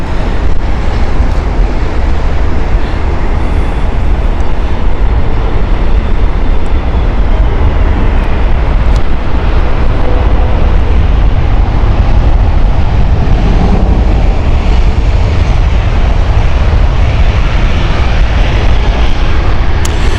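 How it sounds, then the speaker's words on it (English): Aircraft at Heathrow Airport, a loud continuous broadband engine roar that holds steady throughout, close and powerful, with no talking over it. "That was a beautiful, beautiful aircraft."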